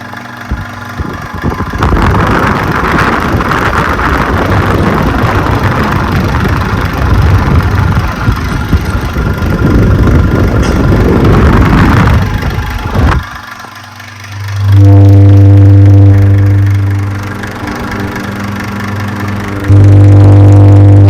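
Motor of a vintage Westinghouse Lively Aire oscillating desk fan, a steady loud mechanical drone with rattling noise that drops out partway, then settles into a smoother, strongly tonal hum.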